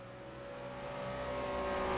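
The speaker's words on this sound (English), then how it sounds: "the sound of the cars is enthralling" Race car engines in the Virtual World Endurance Series mod of a sim racing game at Bahrain, a steady, climbing whine of accelerating motors growing louder, with no talking.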